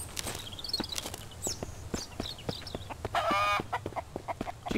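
Chickens cluck repeatedly in the survival game Mist Survival, a string of short, sharp clucks and squawks close by with a brief louder burst midway, over soft footsteps and low ambient hum.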